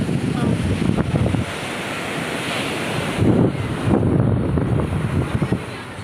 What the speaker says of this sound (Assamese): ইমান হাৱা বতাহ